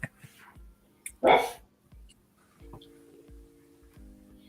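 A single loud dog bark bursts out close by, followed by quieter thumps, soft clicks and a low steady hum.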